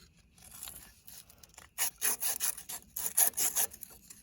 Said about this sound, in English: You want to clean up this shaft very good.